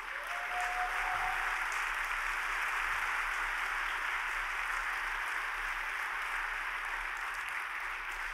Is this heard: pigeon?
no